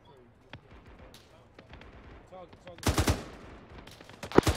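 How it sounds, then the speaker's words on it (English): Gunfire in the military game Arma 3, with scattered distant shots, then a loud burst of rapid automatic fire and a sharp close crack near the end, mixed with voices talking in the background. "they're firing at the heli"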